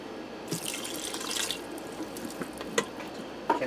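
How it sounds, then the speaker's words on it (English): Water poured into a pressure cooker holding canned diced tomatoes for goulash, a soft continuous splashing pour of about a second followed by faint drips and small clinks, close and fairly quiet. "I'm going to add in a cup of water."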